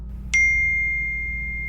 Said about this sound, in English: Another text message popped onto the view screen.